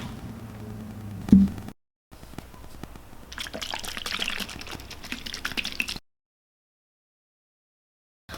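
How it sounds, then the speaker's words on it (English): Water running and trickling into plastic tie-dye squeeze bottles as they are filled to a line, a steady pouring rush in bursts with brief pauses, close by, then stopping. "now we're going to fill these up with water until the line."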